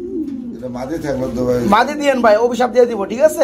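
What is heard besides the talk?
king pigeon cooing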